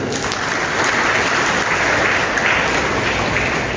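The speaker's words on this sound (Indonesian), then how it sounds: "Nah, tepuk tangan dulu." Sustained applause from a graduation ceremony audience, a dense, steady wash of many hands clapping at even loudness throughout, with no voices standing out.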